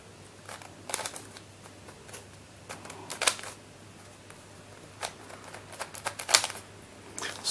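A loose 3D-printed 3x5x5 speed cube is turned by hand, giving faint, scattered plastic clicks and clacks in short irregular bursts over a quiet background.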